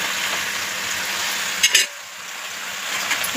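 Gongura (sorrel) leaves frying with onions in a pan crackle in a steady, close sizzle, broken by a couple of brief clinks of a utensil before the hiss settles lower and continues.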